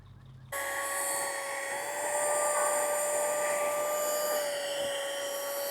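A handheld vacuum clicks on and runs with a steady, loud, high-pitched whine, sucking up cucumber beetle eggs in a backyard garden. Its pitch rises slightly and holds, with no talking.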